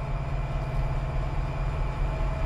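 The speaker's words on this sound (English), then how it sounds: "Oh, there's a train." A train in the Run8 V2 railroad simulator, heard as a steady loud low rumble of rolling wheels and engine drone filling the whole short stretch, with no voices.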